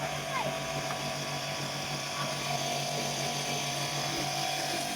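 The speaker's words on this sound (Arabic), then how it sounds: "ما لكم علاقه بصوت الموتور لان صوته شويه عالي" Loud, steady motor running continuously at close range while a pool is filled, a constant droning hum with no pauses.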